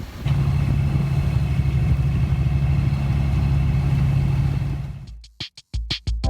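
A sailboat's engine runs steadily at sea, a continuous mid-low hum, then cuts out near the end, leaving a few scattered bumps and knocks.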